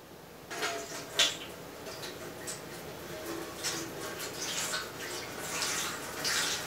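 Water pouring into a container in a comic underwater-breathing demonstration, splashy gushes in uneven bursts that rise and fall, close by with no speech over them.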